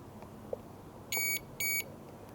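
A multimeter set to continuity, probing the fuses of a long-abandoned Aprilia SL1000 motorcycle, gives two short, clear electronic beeps in quick succession, each about a quarter second long, against a quiet room.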